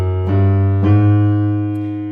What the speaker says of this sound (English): we have this really fancy walk up, and it sounds like this on the left hand